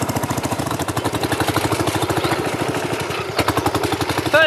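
An old tractor engine running on its own while ploughing a farm plot, a steady rapid chugging beat, close and continuous with a slight lift near the end.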